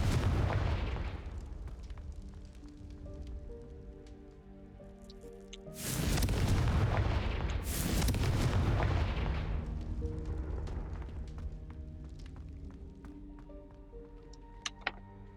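Confringo fire spell blasts in Hogwarts Legacy, booming explosive bursts with a big impact around the middle, rumbling decay and layered game effects, loud and continuous.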